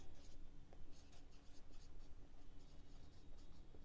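A pen or marker scratches across a board in quick, faint bursts of writing strokes, close by with no talking.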